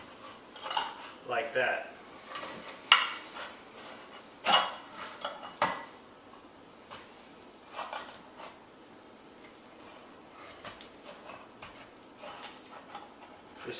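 A spoon scrapes and clicks against the rim of a metal can as it is worked open, giving intermittent metallic taps and scratches, close and fairly loud at first, then quieter, with a brief spoken remark.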